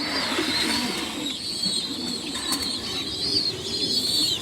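Racing pigeons, a proven pair with their young, coo close by in low rolling calls beneath a constant high chirping and background twitter.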